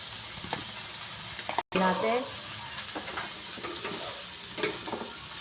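Shrimp and squid hit a hot pan with ginger and start to sizzle, a steady frying crackle broken by a brief cut and a louder spattering burst, with stirring clinks and occasional talk in the background.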